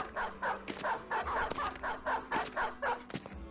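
Dogs in the video game Battle Brothers bark in a rapid rhythmic series, around ten short yaps in a row, moderately loud with a faint steady hum underneath.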